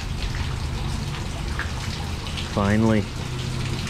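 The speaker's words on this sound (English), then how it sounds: "Listen to all that rainwater." Steady rain falls around a truck in a long, even hiss of water, with a single short spoken word near the end.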